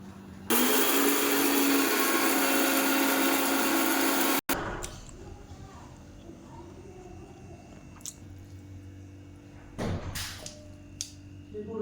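An electric grinder whirs loudly as it grinds dry-roasted fenugreek into a paste, running steadily for about four seconds before stopping, followed by quieter handling and scraping noises.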